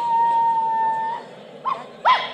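A dog gives a long, steady howling whine, then two short, sharp yelping barks after a brief gap, all close and loud with no one speaking.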